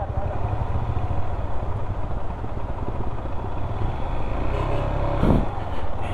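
A motorcycle labors in low gear on a steep mountain road, its engine a steady, loud close rumble with some rattling throughout and a brief clatter near the end.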